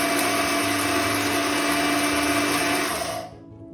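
An electric mixer grinder runs continuously at full speed, grinding whole garam masala spices into powder with a loud, steady high-pitched whir that cuts off abruptly near the end.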